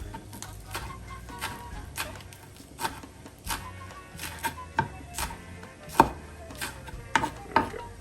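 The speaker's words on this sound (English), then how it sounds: "I'm going to go ahead and cut up the greens as well too" A knife chops green onion tops for pork chops on a cutting board, giving a run of quick, fairly quiet taps in a loose rhythm over a faint steady background.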